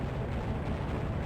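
Tome of Power-boosted weapon fire in the Heretic game, a dense, continuous roaring blast like an eruption that fills the whole short moment at steady loudness with no pauses.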